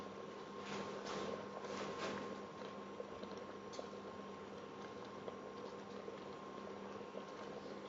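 Strawberry compote with pectin and sugar simmering on the heat, a soft, steady bubbling that stays quiet and even throughout.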